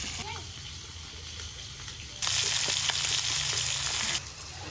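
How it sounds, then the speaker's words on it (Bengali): Fish frying in hot oil in a wok crackles steadily at first, then surges into a loud, dense sizzle for about two seconds before easing back to a softer hiss. "এখন এই দুটো ভাজবো"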